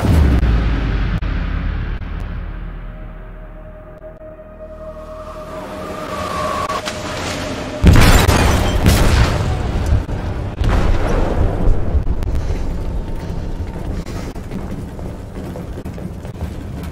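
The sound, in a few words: explosive detonating in a ship's hold in Detroit: Become Human video game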